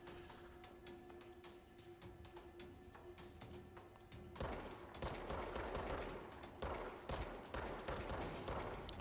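Gunfire in the video game Control: bursts of rapid shots break out midway and continue in quick volleys over a steady low background hum, close and fairly loud, with no talking.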